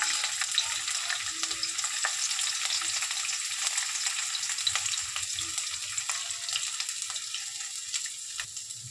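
Ginger frying in oil in a pan for ven pongal, a continuous close hiss of sizzling with scattered crackles and small stirring scrapes throughout, no talk.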